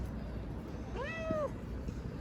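A single clear meow from a nearby sick cat found on the street, rising and falling over about half a second against a quiet background hum.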